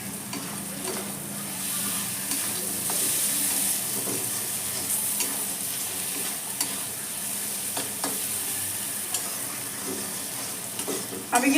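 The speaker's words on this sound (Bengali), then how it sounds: "গুঁড়ো মশলা দিয়ে আমার খুব ভালো করে নেড়ে নিচ্ছে" Sambar dal with ground spices, chopped coriander, aubergine and tomato is stirred in a pan, a continuous close sizzle with soft scraping strokes of the spoon running throughout, no talk.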